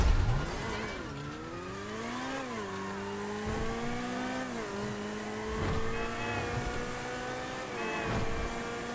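A car engine in Grand Theft Auto V revs and shifts through rising and falling pitch sweeps, accelerating and easing off repeatedly under a steady engine drone, loud and close throughout.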